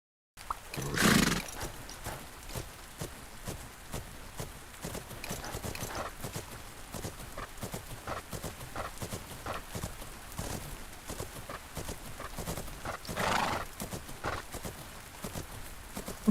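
A horse canters in the video game Fernhoof Grove, its hooves making a steady, rhythmic clip-clop throughout, with a loud whinny near the start and another later on.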